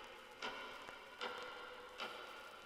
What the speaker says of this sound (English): A lot of reverb on the clock.